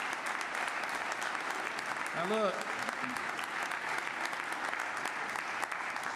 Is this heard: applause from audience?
yes